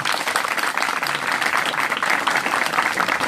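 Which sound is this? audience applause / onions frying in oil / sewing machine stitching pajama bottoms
audience applause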